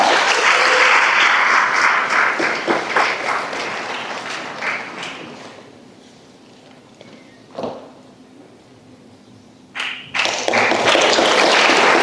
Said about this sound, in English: let's continue clapping for her